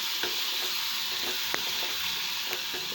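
Fish curry with chili powder is stirred in a hot pan, giving a steady close sizzle with a few soft scraping knocks of the spoon and no talk.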